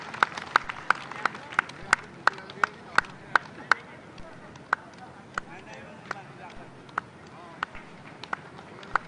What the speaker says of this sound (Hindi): आप लोग तालियां बजाएं।